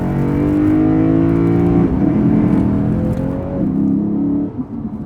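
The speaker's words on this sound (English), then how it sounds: "The engine has a nice V8 tone, one that will just tear into you and make a glorious noise" A 2020 Lexus GS F's V8 engine revs up and holds a rich, loud drone, dips, then rises again before easing off; close by with no voices.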